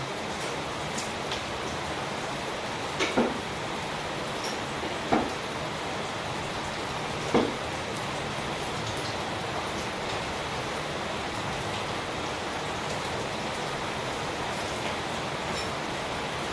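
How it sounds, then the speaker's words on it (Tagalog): Heavy rain in Davao del Norte, Philippines, pours in a constant hiss, with a few brief sharp knocks or drips popping out now and then. "Lakas ng ulan"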